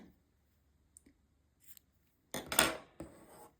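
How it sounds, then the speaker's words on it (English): Scissors snip through crochet yarn at close range, a couple of quick quiet clicks followed by a louder crisp cutting rasp and a final snip in an otherwise quiet room. "I'm going to cut off the yarn"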